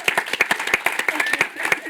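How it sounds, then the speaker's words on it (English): Audience clapping for a speaker being introduced at a Title IX event, a short burst of sharp, distinct claps at close range with a voice partly audible over it. "Give her a round of applause"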